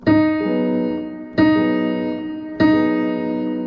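Three struck piano chords from a piece from Stellar Blade, one middle note louder and the inner notes quiet, each ringing and slowly decaying before the next, played clearly and alone.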